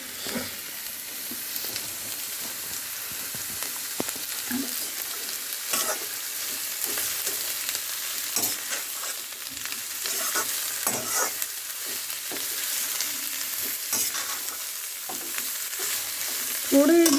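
Onions fry in hot mustard oil for a bhindi sabzi, giving a steady close sizzle with scraping stirs throughout and no voices.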